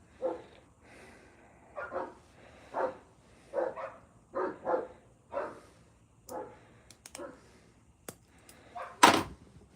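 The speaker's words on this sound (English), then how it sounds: "Yeah, hear the dogs barking now." Dogs barking in a slow run of about eight woofs, moderately distant, followed by a few sharp knocks and a louder thump at the end.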